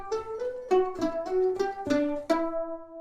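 Four layered sampled mandolins from the Impact Soundworks Rosette Mandolin library play together, a thick plucked passage of about eight bright, ringing notes with quick attacks that ends on a sustained tremolo-like chord.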